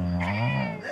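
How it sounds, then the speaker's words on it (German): A single drawn-out cat meow, close and fairly loud, rising and falling in pitch for just under a second with no talk over it. "die Katze ist süß"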